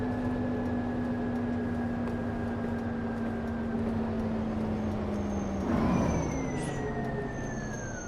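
A bus in the OMSI 2 driving game: a steady engine drone with a whining tone that slowly drops, then a brief hiss and shift in pitch as it brakes.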